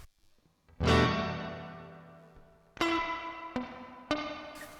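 Guitar notes played through a reverb pedal's spring setting, springy and slightly metallic; one long ringing chord, then three shorter plucks, each trailing a bouncy wash.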